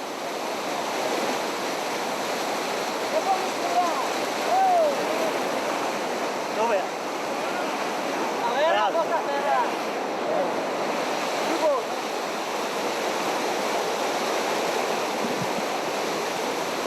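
A river flowing on a cold mountainside at night, a broad continuous rushing wash of water with a few faint higher tones drifting over it, steady and unbroken throughout.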